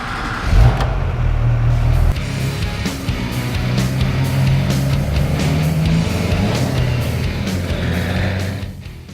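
A used diesel truck engine cold-starts after a short crank and settles into a loud, steady, rumbling idle close by, with no talking.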